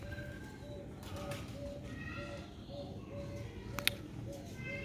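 Silver-breed Sialkoti roof pigeons coo in a soft, repeating low call pattern over steady background noise, with a brief sharp sound near the end.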